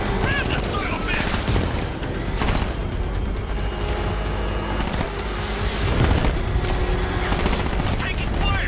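Sustained gunfire bursts in Batman: Arkham Knight combat, loud and dense with heavier booms mixed in, under a music-and-effects bed with shouted voices.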